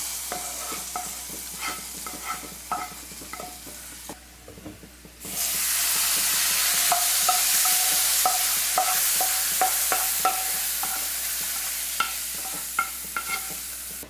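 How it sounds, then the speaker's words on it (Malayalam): Onion and ivy gourd sizzle in hot oil in a pan while a spoon stirs them, giving a steady frying hiss with repeated scraping clicks. A brief quiet gap comes partway, then the sizzle returns louder. "എല്ലാം കൂടി നന്നായിട്ടൊന്ന് മിക്സ് ചെയ്ത് കൊടുക്കാം."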